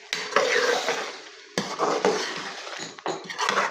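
Yogurt mixed with fenugreek is stirred into frying chicken in a pan, giving three bursts of scraping and clinking spoon-on-pan strokes over a soft sizzle, close and fairly loud with no talk.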